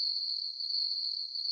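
Crickets chirp in one continuous, steady high-pitched trill, used as a sound effect. It is fairly quiet and plays alone, without any other sound.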